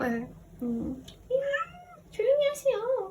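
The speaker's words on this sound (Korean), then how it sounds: "저희 고양이가 찡얼찡얼 대고 있는데" A pet cat whines and meows indoors in a few rising, drawn-out calls, fairly close, with a person speaking briefly at the start.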